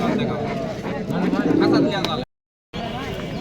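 Pigeons coo at a busy pigeon market in Rajshahi, their soft, throaty calls mixed into crowd chatter and nearby voices, cut by a brief dropout of silence before the market noise resumes.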